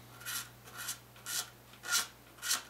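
Stubborn leftover lacquer spots being scraped from a guitar body, heard as five short rasping strokes at a steady rhythm, close and fairly quiet over a low steady hum.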